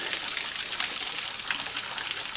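Water spilling down a small waterfall in Louisiana, a soft hissing, trickling splash at moderate distance, fairly quiet and steady with no one talking.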